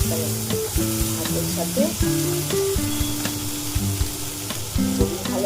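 Whole cumin seeds crackle and sizzle in hot oil for a drumstick chorchori, a continuous close frying hiss beneath steady melodic tones, with no speech.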